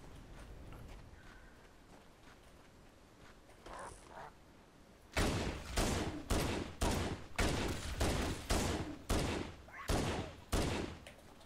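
Pistol fire in the video game Halo: Combat Evolved, a series of about ten loud, evenly spaced shots at a steady rhythm, preceded by quieter ambient game sounds and a few faint distant reports.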